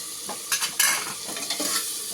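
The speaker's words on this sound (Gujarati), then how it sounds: "હવે આપણે એમાં 1 ટમેટું કાપેલું એ ટમેટું નાખી દઈએ." Chopped tomato tipped into a pan of soybean chunk gravy, giving a close, brief burst of sizzling and stirring scrapes, with softer frying hiss continuing underneath.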